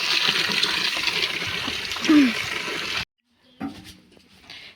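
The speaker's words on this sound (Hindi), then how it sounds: "तो ठंडे पानी से ही धो रहे हैं" Fresh saag greens being washed under cold running water, a steady broad splashing and gurgling rush close by that runs for about three seconds, then cuts off, followed by a few fainter drips and handling sounds.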